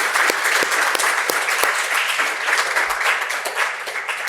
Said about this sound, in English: I would love to have a great applause for all the people I have been naming because they did great work